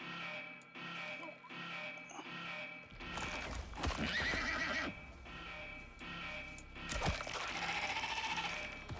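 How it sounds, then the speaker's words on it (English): Hooves clip-clop at a walking pace in the video game Icarus, joined by a brief whinny and some bleating animal calls, over a steady low game ambience. "Never seen the horse use my ramp before."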